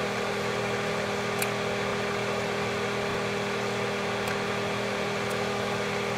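A personal electric space heater runs at its maximum setting, giving a constant even fan hum with a faint steady whine and a few tiny ticks, no voices.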